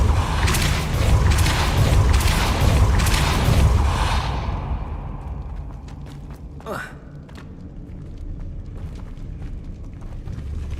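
A Depulso spell cast in Hogwarts Legacy, a heavy rumbling boom and rush that fades out, followed by a quick sweeping whoosh over quiet game ambience.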